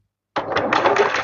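A sewing machine runs a single continuous stitching pass to hold a fabric bow together, starting abruptly after a brief silence with a steady mechanical whir close to the microphone.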